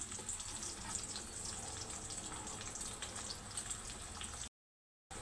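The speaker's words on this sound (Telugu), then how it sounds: "ఆయిల్ వేడెక్కిపోయింది కదా ఒక పెద్ద ఉల్లిపాయ పోసాం" Onion pieces dropped into hot oil, frying with a steady bright hiss and crackle that fills the scene evenly for about four seconds, then cuts off abruptly.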